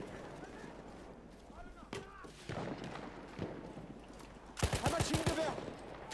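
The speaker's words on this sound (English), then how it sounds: "That rate of fire seemed actually irregular." Irregular bursts of gunfire in a Battlefield-style video game on a bridge map, a dense cluster of loud rapid shots near the end following scattered quieter reports, with a voice talking throughout.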